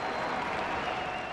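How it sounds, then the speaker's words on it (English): Stadium crowd at a cricket match roaring and cheering after a fast delivery, a dense, steady wash of applause and voices filling the whole moment at a distance. "Cheer from the crowd."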